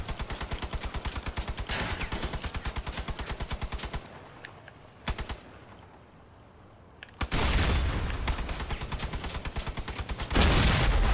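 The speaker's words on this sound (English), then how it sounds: "Oh, who's shooting at me?" Sustained rapid gunfire in a PlayStation game, loud repeating bursts of close shots that pause for a quieter stretch, then return as dense heavy fire and booms.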